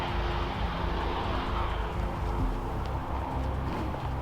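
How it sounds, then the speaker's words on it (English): An Airbus A319 airliner brakes on the runway with thrust reversers deployed, producing a loud, sustained jet roar that rumbles steadily throughout with no pauses. "Just braking there, it's got thrust reverse on. Looks like a little Airbus 319."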